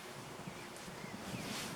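Strong wind on a cold, rainy day rushes outdoors as a broad, steady roar, buffeting the microphone with slight gusts, and no voices are heard.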